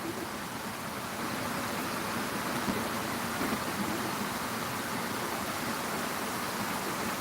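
Steady rain falling outdoors, a dense continuous wash of noise holding even and moderately loud throughout with no voices.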